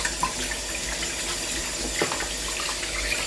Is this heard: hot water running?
yes